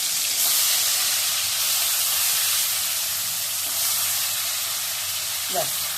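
Chicken pieces sizzle in hot oil with sugar, giving a loud, continuous frying hiss that stays steady throughout.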